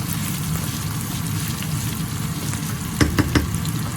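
Garlic frying in a pan over medium heat, a steady dense sizzle with a few sharp stirring clicks near the end; close and continuous, no voices.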